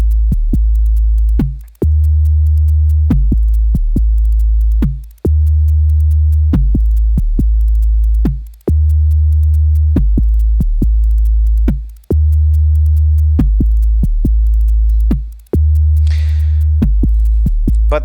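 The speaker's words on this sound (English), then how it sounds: "we can add to the classic 808 sound" Deep, booming 808-style bass notes from USTA, FALISTRI, BRENSO and CGM modular synth modules, each a long sustained tone with a sharp click at onset, repeating in a slow, regular pattern and heard alone.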